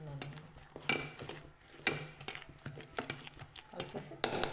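Rice flour batter with curd for punugulu being stirred in a bowl: a run of light, irregular clinks and scrapes against the bowl, close and fairly quiet, with a steady low hum beneath.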